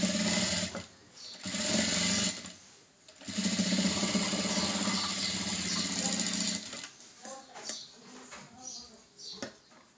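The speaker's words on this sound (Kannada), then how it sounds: "ನಾನು ಈ ಕಡೆ ಬಾಡಿ ಪೀಸ್ ಕಡೆಗೆ ಸ್ಟಿಚ್ ಹಾಕ್ತಾಯಿದ್ದೀನಿ." Sewing machine stitching blouse fabric in rapid whirring bursts, two long runs separated by a brief pause, then quieter handling and short sounds afterward, with faint talk.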